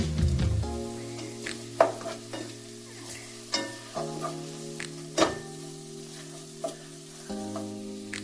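Paneer cubes stirred into a sizzling pan of spiced masala for paneer butter masala, with steady frying hiss and recurring scrapes and clinks of a spoon against the pan, close and clear with no talking.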